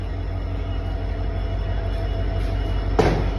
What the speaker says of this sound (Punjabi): ਰੇਲ ਵੀ ਆਈ ਵੀ ਆ।